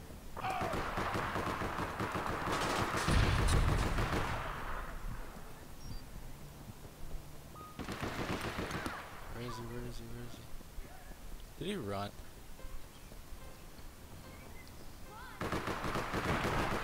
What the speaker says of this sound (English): I hear gunfire going on.